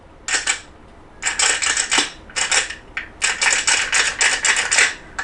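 A piece of plastic is tapped and rattled as a makeshift instrument, giving bursts of bright clicky clatter in quick irregular rhythm with short pauses, close and fairly loud, no voices.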